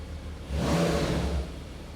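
A Porsche Turbo S engine swells into a deep rev for about a second, then eases back to a low idle hum.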